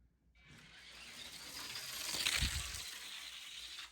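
A Matchbox Peeps VW die-cast car rolls down a 1:64 scale drag strip track, a soft rising rumble that peaks and fades over a few seconds, faint and without talk.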